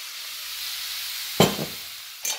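Chanterelle mushrooms tipped into melted butter in a pan, a soft steady sizzle that jumps with a sudden sharp crackle as they land, then a second brief burst, fairly quiet overall.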